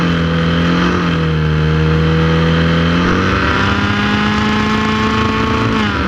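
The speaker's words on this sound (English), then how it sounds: "getting the revs up before the lights come on" A Formula Ford race car engine holds high revs on the grid before a race start at Croft, a loud, close, sustained buzzing drone that wavers and climbs slightly in pitch.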